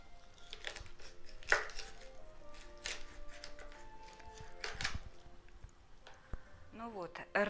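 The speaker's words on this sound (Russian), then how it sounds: "Вот на такие кусочки разрезаем рыбу." A knife chops a carp into pieces on a board in a series of faint, irregular cutting knocks, with quiet scraping in between.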